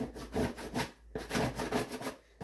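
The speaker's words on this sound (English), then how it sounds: "I'm going to bring my scraper tool, work that dough off the sides" A plastic scraper works sticky sourdough dough off the sides of a mixing bowl, giving a run of close, rhythmic scraping and rubbing strokes with a brief pause midway and no talking.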